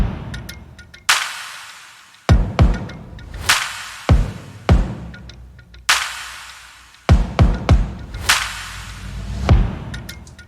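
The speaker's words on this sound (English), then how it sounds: "We have a kick, then we have these claps with a lot of reverb" Electronic drum pattern with a low kick and sharp claps drenched in long reverb tails, repeating in a loose beat of loud hits with decaying washes between them.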